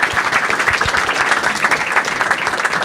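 An audience at a Marathi stand-up comedy show claps for a couple in the crowd, a dense, even burst of applause lasting a few seconds.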